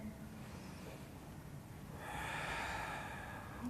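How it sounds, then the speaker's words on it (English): Breathing during a yoga exercise, a steady airy exhale running throughout and swelling louder and brighter in the second half, close and alone with no talk. "From here, we're going to breathe"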